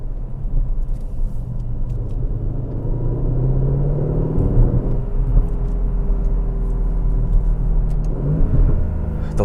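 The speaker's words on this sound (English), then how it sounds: "Those downshifts, they're addicting." An Aston Martin DB11 Volante V8 downshifting on the road, its engine rumbling steadily with pitch sweeps as revs rise and fall between gears, heard close from inside the moving car with no talking.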